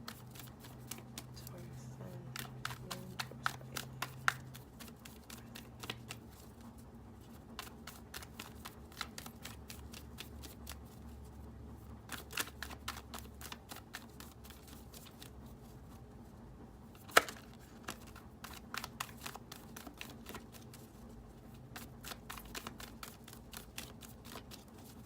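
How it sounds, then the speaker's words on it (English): A deck of tarot cards is shuffled repeatedly in close, crisp riffling bursts with soft pauses between, while a voice speaks quietly in the background. "shuffle this deck"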